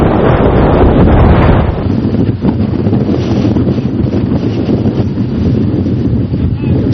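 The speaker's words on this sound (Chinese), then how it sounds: "全年平均仅8级以上的大风就有165天以上" Strong gale at the Alashankou border pass in Xinjiang roars and buffets the microphone, loud and rumbling with gusts that surge then ease into a sustained low blustery howl.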